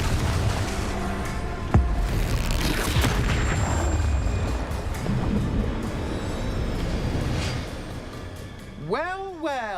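Spell blasts and booming explosions go off in a Hogwarts Legacy battle, with a sharp hit near two seconds, a dense rumbling layer throughout, and a whooshing sweep near the end.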